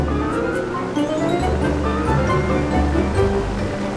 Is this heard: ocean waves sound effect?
yes